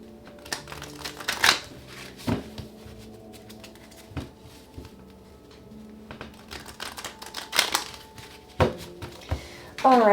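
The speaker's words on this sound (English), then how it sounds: "Two more shuffles." Tarot cards being shuffled in quick riffling bursts with sharp clicks and slaps, separated by quieter pauses, close to the microphone, with a faint steady hum underneath.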